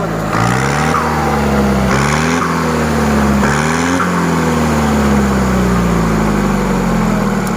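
A modified farm tractor fitted with a rotary engine revs hard and loud nearby, climbing in pitch in several quick stepped bursts before holding a sustained high drone, with no voices.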